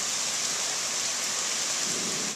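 Heavy rain pours down hard and steadily, a dense, loud, unbroken hiss that holds without pause for the whole stretch.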